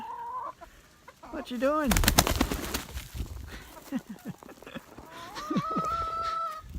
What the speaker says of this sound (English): That's the one squirrely chicken.